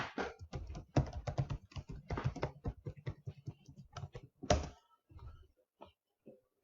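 Keys clatter on a computer keyboard as a user ID and password are typed, a quick, close, uneven run of clicks for several seconds that thins to a few scattered taps at the end.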